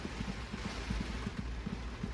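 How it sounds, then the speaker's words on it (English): Heavy rain with high wind during flooding in Rockport, Texas, heard from the back of a truck: a steady, dense hiss with soft low thumps throughout, fairly quiet and with no voices. "I'm just waiting for a gap in the rain"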